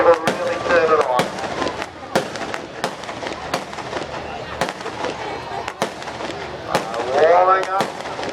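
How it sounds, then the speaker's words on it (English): Fireworks burst at Archerfield Speedway during a Boxing Day 2012 display, a steady run of sharp cracks and booms about once a second, with a crowd talking and cheering throughout. "The 8 fireworks people really turn it on."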